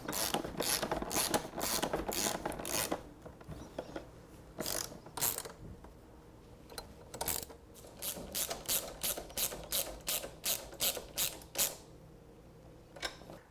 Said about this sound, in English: now we're ready to tighten all the bolts that hold on the rack.